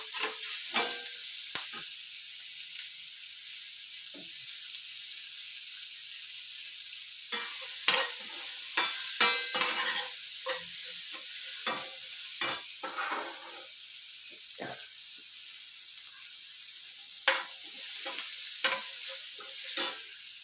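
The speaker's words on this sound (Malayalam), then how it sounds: "ഈ എണ്ണയിൽ തന്നെ സവാള, ചുവന്നുള്ളി, സവാള, കറിവേപ്പില ഇത്രയും ഇട്ട് നല്ലപോലെ വഴറ്റിയെടുക്കണം" Onions, shallots and curry leaves fry in oil in a pan, a steady high sizzle broken by scattered scraping stirs and clinks, close and alone.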